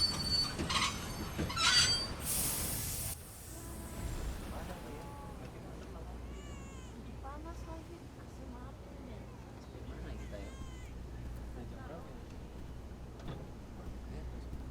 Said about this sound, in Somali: waxaan saarnaa tareen ka tega Jakarta oo u socdo Yogyakarta, kaas oo si lama filaan ah u istaagay.